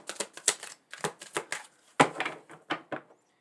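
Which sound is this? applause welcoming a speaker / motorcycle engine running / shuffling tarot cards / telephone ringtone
shuffling tarot cards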